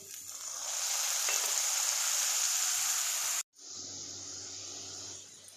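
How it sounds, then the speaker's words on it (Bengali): Ground spice paste fries with browned onions in a pan for mutton curry, making a steady close sizzle that cuts out for a moment, then resumes more softly. "তো বাটা মশলাটা দিয়ে দিই।"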